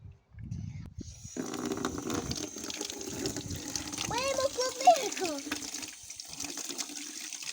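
Tap water runs steadily into a sink while strawberries are rinsed under it, a close, continuous splashing hiss with a voice and other speech heard over it.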